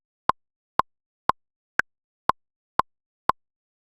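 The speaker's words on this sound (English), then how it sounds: "Ableton's Metronome has now been replaced with the sounds of the Klopfgeist from Logic Pro X." Seven crisp Klopfgeist metronome clicks from Logic Pro, used in Ableton, tick at an even pace, one slightly higher-pitched accent among them, separated by silence.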